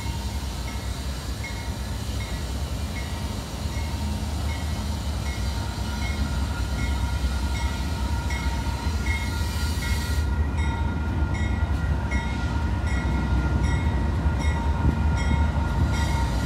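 A BNSF freight train carrying track repair material rolls past, a steady heavy rumble with rail clatter and faint metallic squeal running throughout.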